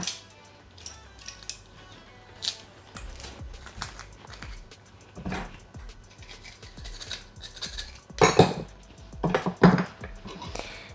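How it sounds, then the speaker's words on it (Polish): A whisk mixes a marinade of tomato paste, salt, sugar and pressed garlic in a bowl, giving close, intermittent clinks and scrapes against the bowl that grow louder in busier bursts near the end. No one speaks. "I to wszystko razem mieszamy. Ja zrobię to za pomocą takiej trzypaczki."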